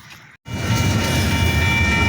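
A double-stacked intermodal freight train of TTX well cars rolls past close by, a loud continuous rumble and rattle rising abruptly after a brief quiet gap and holding steady.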